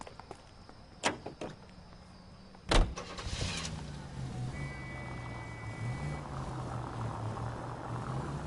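A car drives in LA Noire: impacts and a door thud at the start, then a steady engine drone with a low hum that shifts pitch as it moves.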